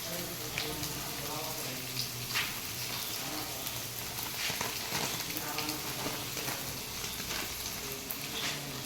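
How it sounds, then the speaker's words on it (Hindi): Onions frying in a pan, a steady soft sizzle and crackle that stays low and continuous while a person talks over it. "बढ़िया से करा के प्याज के भूजल जाई।"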